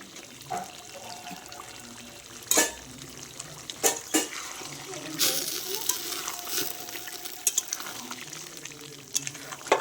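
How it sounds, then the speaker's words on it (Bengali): Mutton frying in a pan with whole garlic cloves, a soft ongoing sizzle broken by several loud scraping stirs and clatters, with a faint voice in the background. "রসুনটা দিয়ে আরও বেশ কিছুক্ষণ আমি কষিয়ে নেব"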